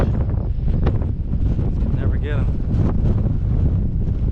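Gusty wind buffets the microphone with a low, constant rumble while someone talks briefly over it outdoors while fishing.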